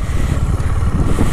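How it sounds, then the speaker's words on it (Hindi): A motorcycle rides onto a bamboo-and-wood bridge on Majuli island in Assam, its engine loud and close with a rough, rumbling clatter throughout the brief moment. "ओह, बहुत स्किड कर रहा है बाइक।"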